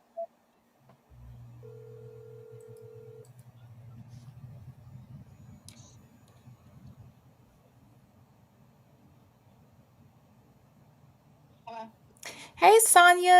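A phone rings once during an outgoing call to Sonya: a single steady tone over a low line hum, then quiet line noise before voices break in at the end.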